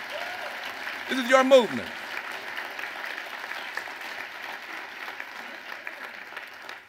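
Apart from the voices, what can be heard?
audience applause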